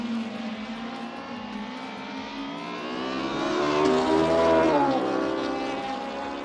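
Electric touring race cars lap Autodrom Most, a continuous whining drone that swells louder as a car passes close around the middle and then fades slightly, with no voices.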